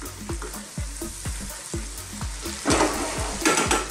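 Spices frying in a karahi for chicken balti, a steady sizzle broken by rhythmic scraping strokes of a spoon stirring the mixture, close and clear with no talk.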